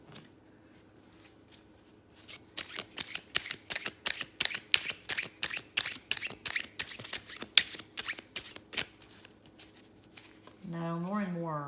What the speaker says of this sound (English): I like to give the cards a good hard shuffle.